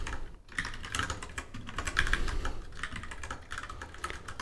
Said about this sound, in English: So I can now start typing